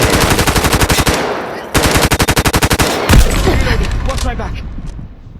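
Sustained automatic gunfire in the mobile shooter game Delta Force Mobile: loud rapid bursts of machine-gun fire, a short pause, another burst, then a heavy blast fading into rumble.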